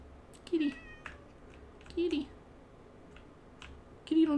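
A tamed cat in the Minecraft video game meows three times at roughly even intervals, short rising-falling cries heard close over a faint background bed with light game clicks.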